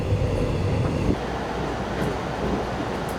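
A Mugunghwa passenger train running on the Taebaek line, a steady, loud rumble of rolling wheels and carriage noise with faint rhythmic clatter, heard from inside the train with no talking.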